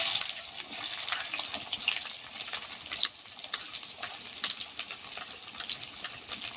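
Onions drop into hot mustard oil with cumin in a pan for a methi aloo matar curry, giving a steady, crackling sizzle with bright spitting pops that carries on without a break.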